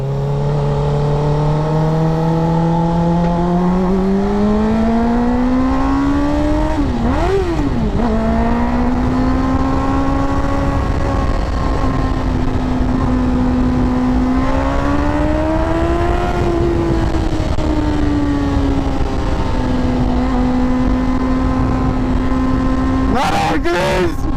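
A Suzuki GSX-R 600 sport motorcycle on a test ride, its engine loud and close as it revs and climbs through the gears with rising and falling pitch, a rider talking over it.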